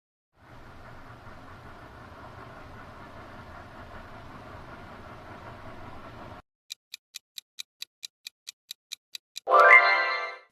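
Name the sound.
steam train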